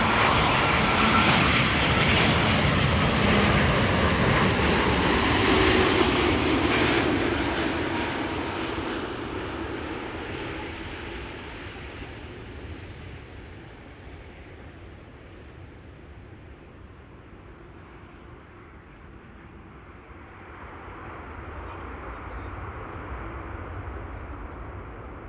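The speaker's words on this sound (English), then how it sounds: "This is KLM Flight 751 arriving from Guayaquil in Ecuador" A KLM Boeing 787-9 Dreamliner jet arriving from Guayaquil produces a loud, close engine roar that peaks early, fades to a distant rumble by mid-clip, and swells slightly again near the end, with no voices.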